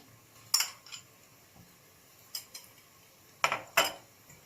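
A spoon scrapes and clinks against a pot while tomato paste is stirred into onions sautéed in oil for spinach soup, giving a few sharp metallic knocks spread irregularly over the stretch, close and fairly loud against a quiet kitchen background.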